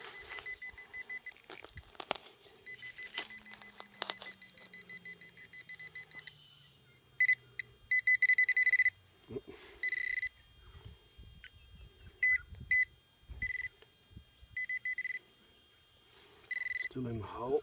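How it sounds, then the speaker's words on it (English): A Garrett Pro-Pointer metal detector pinpointer gives bursts of electronic beeps and warbling tones while digging at an old hotel and village site. The bursts stop and start, with a low slide and a brief voice near the end. "we've got a bit of a noise here with the Garrett Pro pointer"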